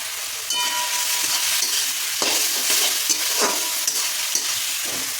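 Masala paste frying in a wok with onion and tomato for a mutton curry, a bright continuous sizzle broken by repeated scraping stirs and clinks of the spatula, close up and without voices.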